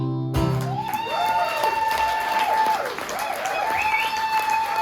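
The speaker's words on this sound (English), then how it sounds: "Let's get a round of applause here." An audience at a club performance applauds in a steady wash of clapping, while a sustained, wavering musical tone rises and falls above it.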